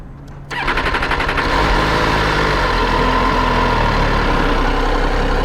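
A brand-new 2022 MV Agusta F3 800RR sportbike fires up from cold after a brief quiet moment, then settles into a loud, steady, close idle with a rapid, even engine pulse and no talk over it.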